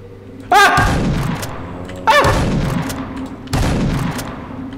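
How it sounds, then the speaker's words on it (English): Shotgun blasts in a horror video game: three loud, booming shots spaced about 1.5 seconds apart, each with a sharp attack and a long rumbling decay, and no talking. "I'm shooting with the shotgun."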